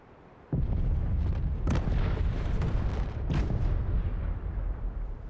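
Explosions in Final Fantasy XVI erupt abruptly and keep going, a loud sequence of heavy booms and sharp blasts over a continuous rumbling roar, with several distinct cracks standing out.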